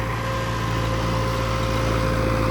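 A tractor engine runs steadily at idle, a loud continuous low rumble with a constant hum and no voices.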